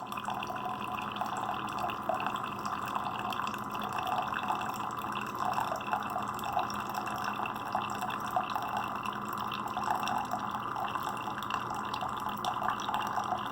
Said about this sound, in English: It's dispensing the coffee now.